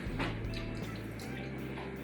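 Warm water pours into a small bowl of brown sugar, salt and fish sauce to dilute the sugar for a spring roll dipping sauce, a soft, faint trickle and drip over two seconds with no talking.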